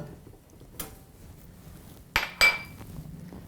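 Toasted sesame seeds are tipped from a pan into a bowl, heard as a few close, sharp clinks and scrapes of metal against crockery, with a brief rattle of the seeds between them in a quiet kitchen.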